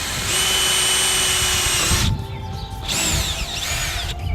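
A power drill bores a small hole through a rubber tire planter, whining steadily for about two seconds, pausing briefly, then running again in a shorter burst with changing pitch as it bites through.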